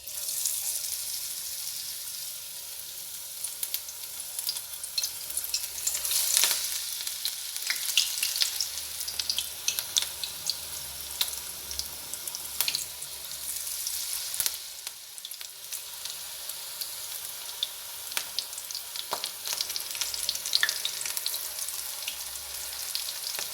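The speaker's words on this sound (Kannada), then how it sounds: "ಆ ಎಲೆನ ನಾನಿವಾಗ ಈ ಥರ ಹಿಟ್ಟಲ್ಲಿ ಡಿಪ್ ಮಾಡಿಬಿಟ್ಟು ಹಾಕ್ತಾಯಿದ್ದೀನಿ" Malabar spinach (basale) leaves dipped in batter fry in hot oil with a loud, continuous, crackling sizzle, nearby and unbroken for over twenty seconds, with scattered sharper pops and no one speaking.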